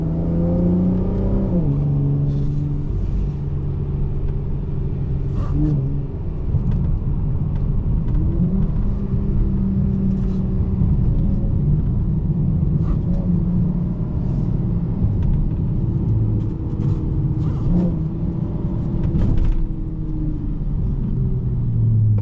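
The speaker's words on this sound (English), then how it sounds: "Oh, is that a Supra? Look at the fucking Supra." A Toyota Supra sports car rumbling nearby with a deep, steady engine drone, rising now and then into brief revs and whirs, heard from a passing vehicle with continuous road noise underneath.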